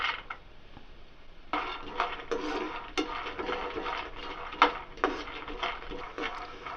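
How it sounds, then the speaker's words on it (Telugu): A cup of peanuts roasts in a spoonful of oil in a pan on the stove, giving a steady crackle broken by light clattering and scraping against the pan. "మనం తీసి పెట్టుకున్న ఒక కప్పు పల్లీలని వేయించుకోవాలి"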